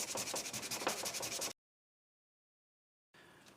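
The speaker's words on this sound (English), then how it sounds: "Phil's going to start to sand this little piece of thing really, really fast" A small piece is sanded very fast, a loud rapid rasping scrub for about a second and a half, then silence, then the rubbing resumes briefly and more faintly.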